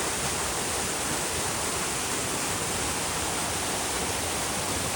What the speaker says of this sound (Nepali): अनि यहाँ कल पानी बगेको है।